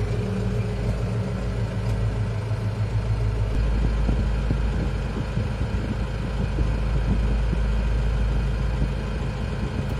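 A Farmtrac tractor sits idling in a field during manure spreading, its engine giving a steady, close, continuous low rumble with no other sounds.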